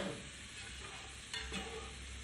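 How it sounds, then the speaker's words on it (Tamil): Small shallots and a large onion sautéing in a pan with curry leaves and salt for a Kerala-style squid masala give a steady, fairly faint sizzle, with a brief scrape of stirring partway through and no voices. "ஒரு பெரிய வெங்காயம் இதை நல்லா வதக்கி எடுத்துக்கோங்க"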